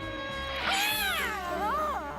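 Azrael the cat in a Smurfs cartoon gives a long, drawn-out meow that bends up and down in pitch, clear and close over a faint music bed.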